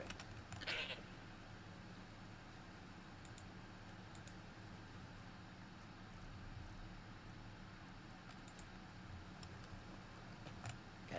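A single short goat bleat rises briefly near the start, faint over a quiet game background with soft clicking, then nothing but low ambient hum.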